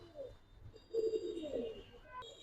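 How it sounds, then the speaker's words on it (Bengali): A pair of pigeons gives a single soft, low coo up close, a brief murmur that rises and fades within a quiet room. "এই এক জোড়া কবুতর"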